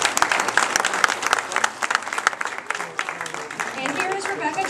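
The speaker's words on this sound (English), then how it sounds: "So let's give a big round of applause to all of our sponsors." Crowd applause for the sponsors at a FIRST LEGO League robotics kickoff, a burst of dense clapping with cheering and voices mixed in throughout.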